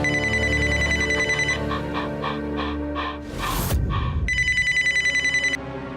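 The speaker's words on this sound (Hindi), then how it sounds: "अरे फोन उठाने दो ना, क्या पता माँ का जरूरी कॉल हो" Telephone ringing in a home, rapid trilling bell bursts repeating loudly and up close, broken by a brief clatter as the call is picked up, with no talk.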